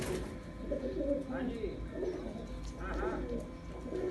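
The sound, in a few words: pigeons cooing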